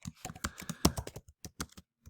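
Rapid, irregular keystrokes on a computer keyboard, close and clear, with short pauses between bursts of clicks.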